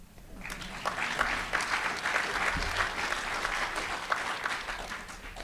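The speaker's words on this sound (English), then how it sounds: "Clap that up" Audience applause at a mayor's State of the City address, many hands clapping steadily for several seconds in a large room, moderately distant, with low rumble underneath and no speech.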